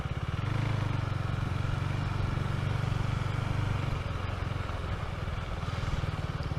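A Husqvarna Svartpilen motorcycle rides off-road in the city, its engine putting out a close, steady, pulsing rumble that holds at an even pace throughout.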